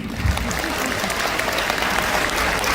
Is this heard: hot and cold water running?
no